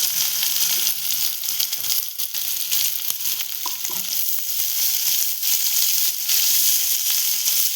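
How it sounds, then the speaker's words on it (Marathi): Onion and green chili sauté in hot oil with cumin and mustard seeds, a loud continuous sizzle with occasional stirring clicks and scrapes close up. "कांदा जास्त परतवणार नाही, पण नुसतंच नरम करून घेणार"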